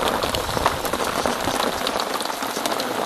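Rain beats down beside a small river at a jetty, a dense, steady patter of drops striking nearby surfaces that stays even and close, with no voices.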